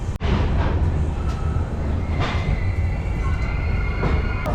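An express train rolls into Dibrugarh station in Assam, with a continuous loud rumble, faint rail squeals and clatter.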